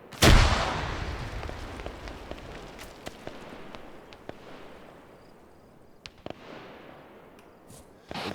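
Frag grenades go off in a video game: a loud, close blast at the start, then a scattering of sharper cracks and pops that fades into a quieter rumble.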